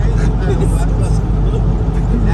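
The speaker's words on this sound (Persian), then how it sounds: "الان یه اتوبوس داره میاد." A bus approaches on the road from Tehran to Tabas in Iran. A heavy, constant low engine and road rumble is heard from inside a vehicle, loud and unbroken, while people talk over it.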